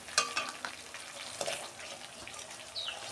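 Spices fry in oil in a pan as sour yogurt goes in, a close sizzle with repeated scraping stirs and clatters, no voice.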